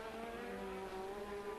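Formula 1 cars racing through the streets of Monaco at the 1986 Grand Prix, a sustained high engine whine holding steady pitch throughout, loud and continuous with no commentary over it.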